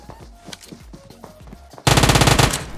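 Gunfire in PUBG Mobile on the Miramar map: scattered distant shots and footsteps-like clicks, then a sudden loud close burst of rapid automatic fire lasting under a second.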